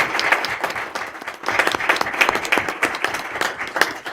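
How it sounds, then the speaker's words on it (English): Applause for school students at a school committee meeting, a steady round of clapping from a room of people that swells and stays lively throughout, without talk. "How about a round of applause for all of our students?"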